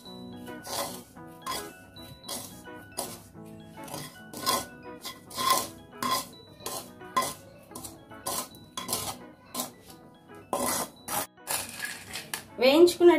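Roasted semolina is stirred into sugar syrup for rava laddu, with a steady run of scraping, clinking spoon-on-pan strokes in an irregular rhythm, close and fairly loud.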